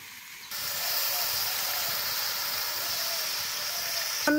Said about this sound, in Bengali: আমার কষানো হয়ে গেছে, এখন জল দিয়ে দেব।